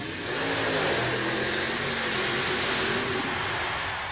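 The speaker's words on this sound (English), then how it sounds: "Funny car utilizing a fuel-injected, nitrous oxide-injected, small block Chevrolet." A nitrous oxide-injected, fuel-injected 372-cubic-inch small block Chevrolet powers a Jeep funny car at a 1990 USHRA event in San Diego, giving a loud, steady, sustained engine roar at full throttle that holds from start to finish without a break.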